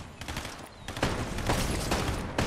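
Bursts of gunfire from a Fortnite match, several sharp broadband volleys spread across the moment at moderate loudness over a busy game background, with no talk over them.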